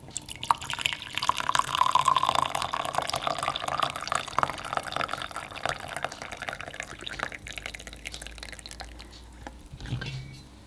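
Water pours and trickles steadily for tea in a quiet indoor kitchen, a continuous close liquid splash that thins toward the end with a faint clink.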